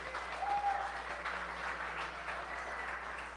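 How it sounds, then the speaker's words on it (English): An audience at an uplifting inspirational event breaks into steady applause, a dense wash of clapping at moderate volume that holds throughout. "let's give them another round of applause"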